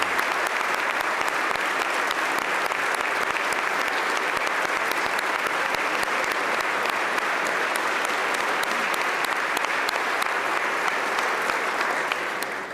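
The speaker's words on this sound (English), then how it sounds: "Let the record reflect, everybody seems to clap for the First Lady." A large audience at a state budget address applauds for the First Lady, a dense, steady wash of many hands clapping that holds loud and continuous throughout with no speech over it.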